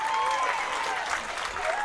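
Crowd at a Class A high school baseball semifinal between Tyler Consolidated and Petersburg applauds steadily, a sustained wash of clapping with some cheering mixed in throughout.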